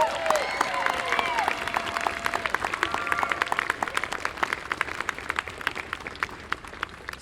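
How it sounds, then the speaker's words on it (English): A crowd at an outdoor Earth Day climate march breaks into applause, a dense patter of many hands clapping steadily and then thinning toward the end, heard alone without talk. "let's hear a great round of applause for Emma Winter"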